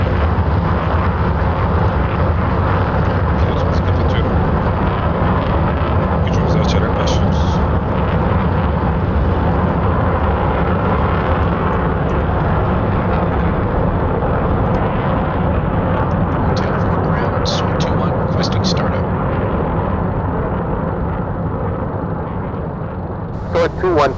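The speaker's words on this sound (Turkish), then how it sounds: "İlk önce motorumuzu çalıştıracağız." An F-16 jet engine starting up in the DCS flight simulator, a steady broadband roar that holds for a long stretch, with a voice speaking at times.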